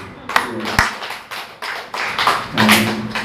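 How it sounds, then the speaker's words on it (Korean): Church congregation claps in a few uneven bursts, fairly close and loud, with a sharp tap standing out near the start and voices murmuring underneath. "여러분에게 박수 한번 쳐주십시오"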